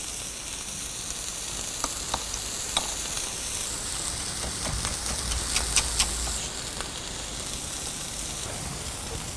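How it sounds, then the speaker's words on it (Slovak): Potatoes tossed with butter and chopped parsley in a frying pan, giving a steady soft sizzle with faint scraping and a few light clicks of a utensil, close and continuous with no talking. "A zemiaky takto zľahka premiešame"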